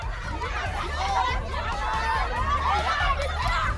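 A crowd of TMC supporters surrounding BJP leaders during a scuffle, a steady hubbub of overlapping chatter, shouting and some laughter close by, with no single clear voice.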